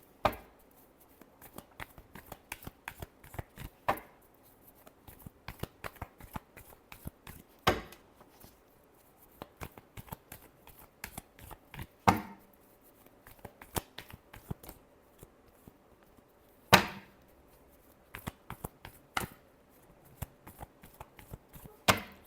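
Tarot cards being shuffled by hand, giving a steady run of soft, close riffling clicks and flicks punctuated by a few sharper slaps as the deck is squared.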